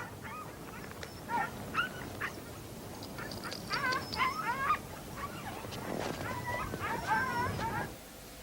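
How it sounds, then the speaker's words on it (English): Several dogs on an early-1900s polar expedition yelp, whimper and bark in an excited, irregular chorus, moderately near but fairly quiet, with a low rumble of background noise underneath. "Look after the dogs."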